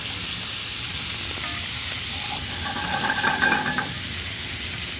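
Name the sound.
shrimp cooking in a pan after bacon and shallot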